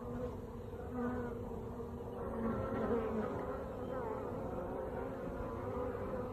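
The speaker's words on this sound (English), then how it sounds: "Bees being thrown out." Honeybees buzz in a steady, dense drone around a hive in winter sunshine, with many insects flying close by and the hum holding level throughout.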